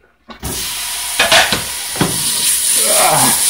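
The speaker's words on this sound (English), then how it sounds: "It's sizzling." Meat hits a preheated pan on high heat and a loud, steady sizzle follows, broken by a few scraping stirs, with no talking.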